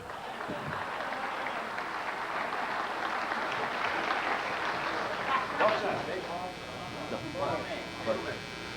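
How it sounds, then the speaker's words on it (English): Audience applause for a drummer at a band concert, a steady wash of clapping from a crowd that holds evenly throughout, with a voice speaking over it toward the end. "you just applauded for him"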